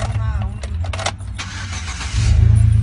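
A 2008 Chevrolet Silverado engine cranks and catches, its low rumble swelling into a steady, louder idle near the end, with talk over the first part.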